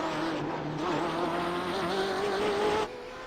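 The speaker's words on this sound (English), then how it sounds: "you can hear the tire just skipping along the pavement" Race car tires skipping and scrubbing across pavement while understeering at Belle Isle in Detroit, an M8 in iRacing: a steady near engine tone with rising pitch and a gritty squeal layered on top, cutting off abruptly near the end.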